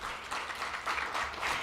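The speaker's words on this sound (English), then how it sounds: "A round of applause for our panelists." Applause from an audience thanking a panel at a legal technology event in Denver, a steady wash of many hands clapping together, fairly close and continuous without any talk.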